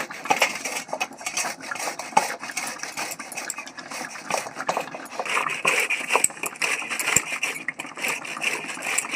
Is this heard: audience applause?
no